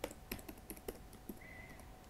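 Typing on a computer keyboard, about eight sharp key clicks in an irregular rhythm, close and fairly quiet, with a faint brief tone partway through.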